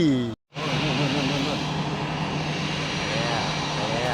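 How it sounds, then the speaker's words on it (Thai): An airplane takes off at sunset, its engine a loud, steady roar close by. The sound holds for the whole stretch after a brief dropout near the start. "ขึ้นบินเที่ยวสุดท้ายก็กำลังจะออกแล้ว"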